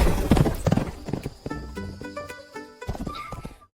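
Horse hooves clip-clopping at a steady walking rhythm while being ridden, close and clear, with a few faint tonal sounds and a short whinny-like note among the beats.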